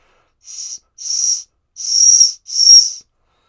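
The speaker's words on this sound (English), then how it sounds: "You've got this little thing in the back here that is a whistle, which doesn't work" Four short, breathy blasts from a small survival whistle built into a pocket knife handle, thin and hissy rather than shrill, each under a second with brief gaps between them.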